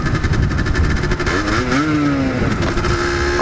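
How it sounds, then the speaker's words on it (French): A motorcycle passes by on the road, its engine note rising and shifting in pitch as it revs, loud and close over steady traffic rumble, with no talk. "wow, super moto"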